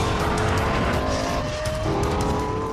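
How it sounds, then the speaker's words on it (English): Lexus LFA, a production supercar with a high-revving V10, roars loudly and continuously as a close, sustained engine note with rising rev tones, mixed with some tyre noise and no talk. "Aggressive, loud, agile. Highest revving V10 engine in a production car."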